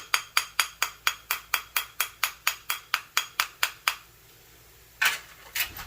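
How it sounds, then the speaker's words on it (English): Steady series of about sixteen light, even taps on a silver casting flask to loosen the sand around the piece, sharp metallic knocks at a quick regular rhythm, then a pause and a couple of louder clatters. "Just give it some taps. Doesn't have to be hard. All we're doing is just kind of loosening up the sand around the piece."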